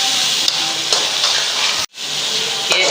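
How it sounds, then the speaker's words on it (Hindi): Half a kilo of mutton frying with salt, chilli and masala for karela gosht, a loud, close, continuous sizzle with stirring scrapes and one brief dropout near the middle, no talking. "अब इसको गोश्त को अच्छी तरह भूनें ताकि नमक मिर्च मसाला सारा इसमें लग जाए"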